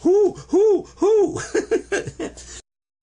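A voice imitates an owl, giving three drawn-out, rising-and-falling hoots in a steady rhythm, then breaking into a string of short, breathy chuckles before falling silent.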